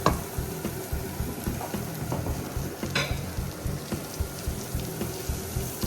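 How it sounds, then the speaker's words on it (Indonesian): Spring onions sizzle and crackle steadily in a hot pan, with a spatula scraping and stirring in a regular rhythm, close and moderately loud, no voices. "Daun bawangnya kita masukkan. Kita tumis dia sampai harum."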